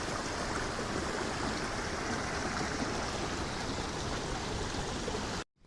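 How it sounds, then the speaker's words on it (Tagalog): Overflowing creek water rushes through a flooded gamefowl farm, roaring in a steady, broadband wash, loud and continuous, then cutting off abruptly near the end. "hanggang ngayon ay umaapaw pa rin ang tubig na galing sa sapa"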